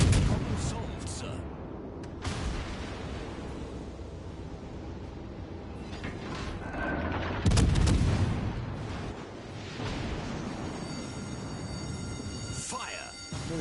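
Naval artillery booms in World of Warships: Legends: heavy salvos and blasts over a constant rumbling battle din, with one especially loud burst midway and faint voices in the mix.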